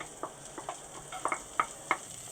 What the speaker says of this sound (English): you've got the butter sizzling there. So what we're going to do now is we're going to add the garlic into the pan.